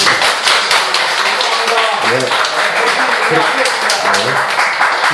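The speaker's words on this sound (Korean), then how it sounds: "자 박수 한번 드립시다" A crowd claps loudly and steadily at a Buddhist order's general assembly, a dense burst of applause lasting several seconds without a pause.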